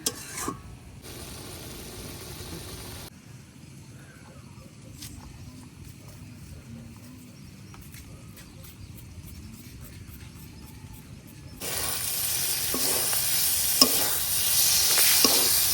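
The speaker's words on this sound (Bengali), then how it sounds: "আমরা ভাজতে ভাজতে আরো একদম টাইট করব" A pumpkin filling for village-style puli is fried and stirred in a pan. A faint sizzle and occasional utensil clinks run quietly for a while, then a louder, busier stretch of scraping and frying takes over near the end.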